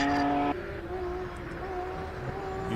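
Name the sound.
hillclimb race car anti-lag system popping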